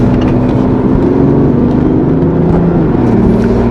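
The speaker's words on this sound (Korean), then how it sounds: "지금은 사실 그리고 엔진만 돌리는 상황이거든요." Inside a BMW i8 coupe while driving, the engine gives a steady, loud droning hum with a low harmonic buzz and no noticeable change in pitch.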